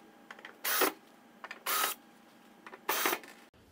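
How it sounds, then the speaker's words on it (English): Screws being backed out from the bottom of a Creda thermal storage heater, heard as three separate bursts of bright mechanical whirring, each under a second long, with small clicks between them, close and fairly quiet. "There are three screws at the bottom of the heater, and we'll just go ahead and remove those."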